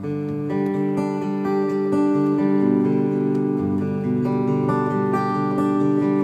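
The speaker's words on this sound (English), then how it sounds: "String skipping, we would play every other string," A guitar plays a steady, ringing string-skipping arpeggio pattern, notes jumping between strings and overlapping as they sustain, clean and even.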